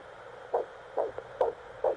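Baby's heartbeat heard through a stethoscope in the video game Head to Toe: four soft, muffled thumps evenly spaced about half a second apart, steady and alone.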